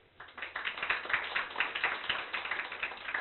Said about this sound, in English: So one round of applause for everyone